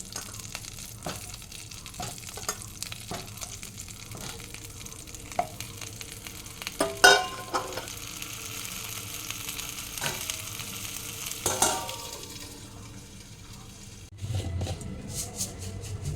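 Pointed gourd (potol) pieces fry in a pan with a steady oily crackle, marked by scattered stirring clicks and scrapes and a louder burst near the end.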